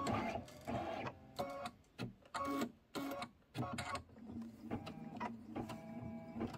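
A home embroidery machine stitches an apple face detail in black thread, giving off a faint, irregular run of mechanical whirring and clicking bursts with brief pauses between them.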